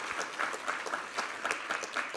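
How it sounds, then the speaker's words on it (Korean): Church congregation applauding during a New Year's first Sunday worship service, a steady wash of many hands clapping at moderate loudness with no talk over it. "우리 하나님께 감사와 영광의 박수 올려드리도록 하겠습니다."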